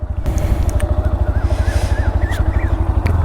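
A motorcycle engine idles and pulses steadily up close, its rhythmic low thumping continuous throughout, with brief clicks and a faint whine riding over it as the bike readies to set off on a ride to the Thanjavur Big Temple.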